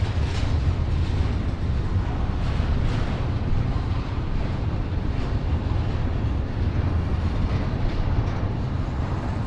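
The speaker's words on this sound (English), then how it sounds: "You really don't get to see this in New York too much in terms of the big freight trains coming by" A big freight train rumbles past steadily, loud and continuous with a deep low roar and faint rhythmic clatter, heard outdoors in Miami with no talking.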